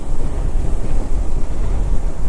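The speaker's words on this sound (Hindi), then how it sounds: "इतनी तेज़ी से हवा चल रही है" Strong wind roars across the microphone during stormy, rainy weather with lightning on a mountain road trip, producing a constant, dense rumbling buffet that stays loud throughout with no voices.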